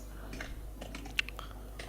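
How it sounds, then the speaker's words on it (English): Typing on a computer keyboard, a scatter of light, close key clicks with one sharper tap partway through and no talk. "Okay, so we need to start typing."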